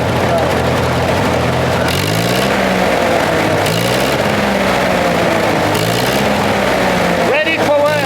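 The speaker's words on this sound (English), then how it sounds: "So let's hear it running." A Fergie 35 tractor fitted with a heavy duty rear blade idles and runs with a loud, steady diesel chug, its engine note rising and falling in several short revving swells, with a voice briefly audible over it.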